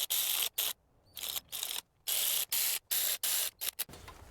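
A hand ratchet clicks in quick, close bursts while tightening rocker arm cap bolts on a Dodge Chrysler 3.6 engine. The bursts are separated by short silent pauses between strokes, loud and with no talk.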